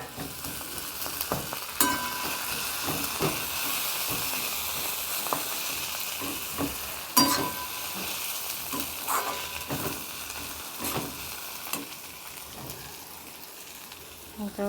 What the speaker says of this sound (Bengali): এই যে পেঁয়াজটা একটু ভাজা হয়ে গেছে, টমেটোটা দিয়ে দিয়েছি।